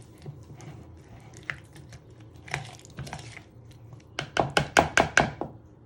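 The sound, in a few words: spoon stirring cucumber mixture in a bowl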